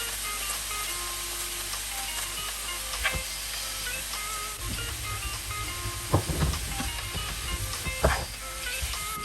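Bean sprouts stir-fried with a splash of soya sauce in a pan give a steady close sizzle, with a few sharp scraping stirs and clatters around the middle and near the end.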